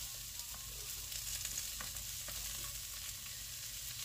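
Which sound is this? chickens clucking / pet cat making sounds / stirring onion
stirring onion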